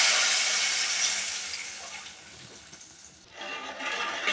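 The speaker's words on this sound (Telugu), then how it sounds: "ఇప్పుడు చింతపులుసు. ఇప్పుడు దీనిలో పులుసు వేయాలి." Tamarind juice is poured into a cooking pot for a village-style raw tamarind soup, a steady close liquid splash and hiss that fades out and then briefly returns.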